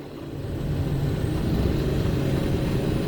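A Ford F550 with the 6.4 Powerstroke diesel runs at full throttle, hauling about 20,000 pounds up a long hill. It makes a steady, loud, low engine drone and road rumble that holds for the whole stretch without a break.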